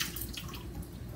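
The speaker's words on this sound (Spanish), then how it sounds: "vamos a botarle el agua a la manzana" Salted soaking water poured and drained off apples in a kitchen, a steady continuous splashing trickle with no pauses, fairly close.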